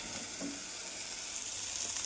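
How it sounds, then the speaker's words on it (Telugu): Coriander frying in a pan for kothimeera pachadi chutney, a steady close hiss and sizzle throughout with no talking. "అలా కొత్తిమీర పచ్చివాసన పోయే వరకు వేపుకోవాలి."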